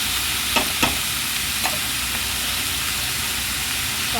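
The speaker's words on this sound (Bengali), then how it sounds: "নুন, চিনি, হলুদ দিয়ে তরকারিটা একটু ফোড়ন দিয়ে নিয়েছি।" Vegetables in a hot tempering with salt, sugar and turmeric, frying for moong dal khichdi, give a steady close sizzle with a few faint scraping stirs. No one speaks.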